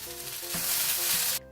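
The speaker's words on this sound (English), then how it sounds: "Mix with vegetables and stir fry them." Vegetables and fried, dried tofu sizzle loudly in a hot pan as they are stir-fried and tossed, with a steady close hiss and a few scraping stirs before it cuts off abruptly.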